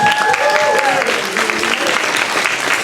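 A theater audience gives a loud round of applause for the parents of young performers, dense and continuous clapping, with a brief tonal sound and a murmur of voices at the start.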